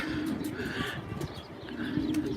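Pigeons cooing in a loft of over a hundred birds, soft low repeated coos close by under faint background sound, with no clear talk.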